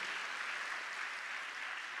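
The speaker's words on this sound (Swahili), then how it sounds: "Pigeni makofi yanayoeleweka sasa, sio mnapiga ya kuzingua zingua." An audience at a church sermon claps steadily throughout, a dense, even patter of many hands at moderate volume with no voices on top.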